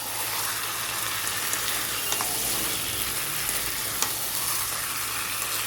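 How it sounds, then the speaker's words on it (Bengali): Chopped onions sizzle in hot oil with whole garam masala and dried chillies, a dense, even frying hiss with occasional small pops, close up and without voices. "ফোড়নে দিলাম গোটা গরম মশলা, দুটো শুকনো লঙ্কা আর দুটো বড় সাইজের পেঁয়াজ কুচি।"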